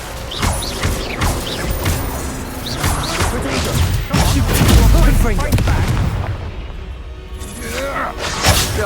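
In the Hogwarts Legacy video game, a Confringo blasting spell goes off in a loud, booming burst amid crashing battle effects and a voice casting spells. The explosive sound swells midway, then fades into a brief lull and another hit.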